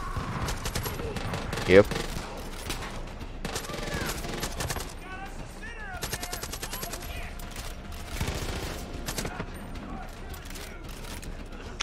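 Rifle fire in Far Cry 5, rapid bursts of gunshots running almost continuously over steady game noise, loud and close, with someone briefly talking in between.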